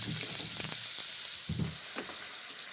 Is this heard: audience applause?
no